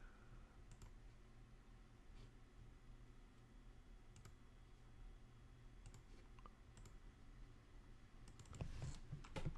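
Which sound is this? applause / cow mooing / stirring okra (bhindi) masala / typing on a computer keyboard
typing on a computer keyboard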